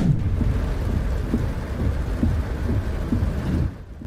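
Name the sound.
heavy rain and thunder during flooding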